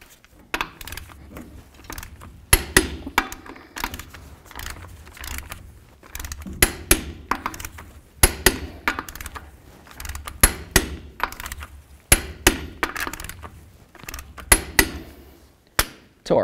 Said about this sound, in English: Now it's time to torque these lug nuts to 120 foot-pounds.